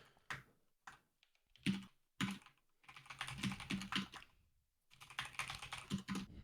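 Loud typing on a computer keyboard during an online game of Petit Bac: close, rapid clacking in several bursts separated by short pauses.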